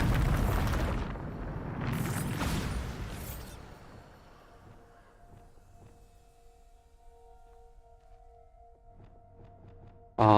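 A Bombarda blast spell in Hogwarts Legacy erupts as a loud, close boom with a rumbling roar that fades over several seconds into faint ambient game tones, then a sharp burst at the very end.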